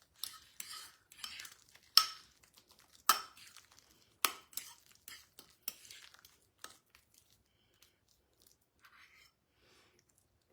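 Utensil scraping and clinking inside a bowl as a hot power bowl lunch is mixed, with a burst of sharp clatters and scrapes that thins out into sparse soft taps toward the end, close by and with no talking.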